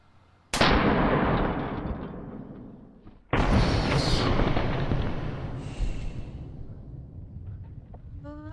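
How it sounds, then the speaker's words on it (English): A home defense gun fires at a dummy, two loud, close blasts about three seconds apart, each followed by a long decaying roar. "I'm gonna shoot the dummy a second time"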